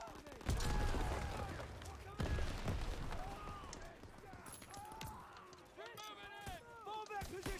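Sharp bursts of gunfire ring out in a Call of Duty WW2 battle, with a few loud cracks and scattered shots under shouted soldier voices amid battlefield din.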